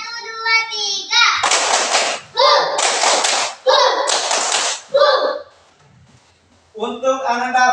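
Children in a classroom clap in short rhythmic bursts, a few groups of sharp claps separated by pauses, interleaved with a child's and an adult's voices calling out between the rounds.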